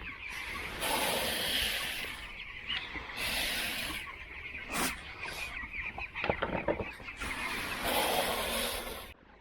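Broiler chickens cluck and squawk while feeding on grain, a busy, fairly loud flock chattering in overlapping bursts for the whole stretch, with a few sharper calls standing out near the end.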